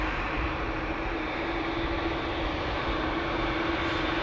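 A KLM Boeing 737 at Schiphol produces a continuous engine roar with a faint steady hum running through it, loud and even for the whole stretch.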